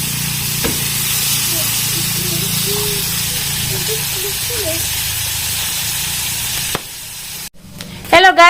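Chicken sizzles in a pan of hot oil, a steady loud hiss that runs on without a break, ending in a few sharp clatters and a brief voice.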